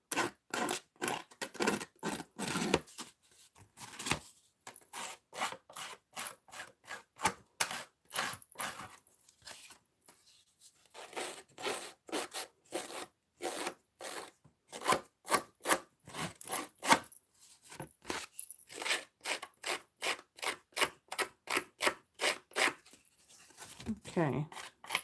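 Scissors cut paper in a series of quick crisp snips, near and fairly quiet, coming in bursts with short pauses between them.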